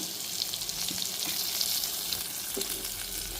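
Green chillies sizzle steadily in hot oil in a pan for a sweet potato and small onion stew, a continuous bright frying hiss with a faint stirring clink near the end, no voices.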